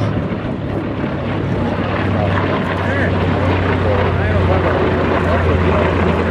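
WWII warbirds, including a Corsair, Wildcat, Avenger and Dauntless, flying in formation at a beach airshow: a steady, loud propeller-engine drone with a low hum and wind buffeting, heard throughout while a voice talks over it.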